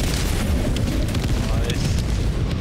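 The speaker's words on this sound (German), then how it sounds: "Orbitalschlag abgefeuert!" A loud orbital strike explosion in the video game Helldivers 2, a dense, sustained deep rumble and roar that fills the whole stretch without letup.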